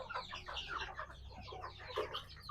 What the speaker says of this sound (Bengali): এই তো এখানে কিছু দেশি মুরগি আছে